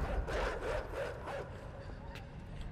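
Dogs barking in the dark side-scrolling game Inside, a cluster of yips and barks rising over a noisy low game backdrop with a player talking throughout.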